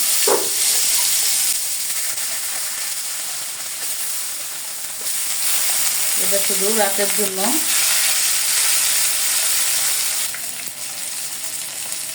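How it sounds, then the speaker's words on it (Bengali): Rohu fish pieces rubbed with turmeric and salt frying in hot oil, a steady close sizzle and hiss throughout, with a short spoken remark partway. "এখন আমি এগুলোকে ভেজে নিব ফার্স্টে"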